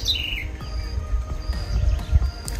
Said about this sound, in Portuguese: Olha os passarinhos, ó.